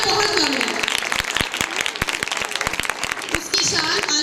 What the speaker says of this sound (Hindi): आपकी तालियां बजाएंगे।